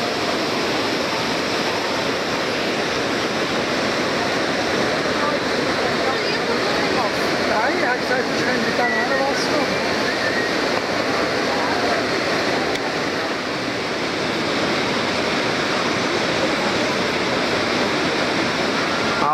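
Steady, roaring rush of one of the Iguazu waterfalls, seen from the Brazilian side, a dense broadband wash that stays loud and constant throughout with no breaks.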